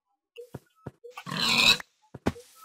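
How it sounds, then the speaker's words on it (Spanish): Pigs grunting in a modded Minecraft world, short scattered grunts and oinks with one longer, louder squealing snort in the middle, close and otherwise quiet. "¡Hay un chingo de puercos!"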